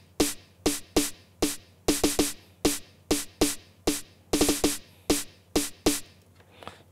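Electronic snare D114 from Logic Pro's Single Drum Snares, played alone as about sixteen sharp, bright hits in a steady pattern with a few quick flams and rolls.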